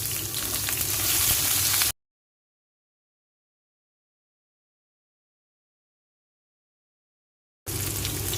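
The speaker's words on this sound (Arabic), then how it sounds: "ببدا انزل فيه بالبصل كده زي ما احنا شايفين، واقلبه" Sliced onions frying in well-heated oil give a close, steady sizzle that cuts out abruptly into a long silence, then returns just as abruptly at the end.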